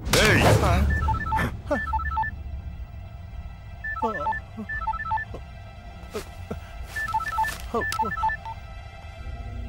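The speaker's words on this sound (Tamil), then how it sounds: "ஃபோன் பண்றான்" Telephone keypad tones beeping out a number in several quick bursts, followed by rings over a faint background hum in a Tamil action comedy scene.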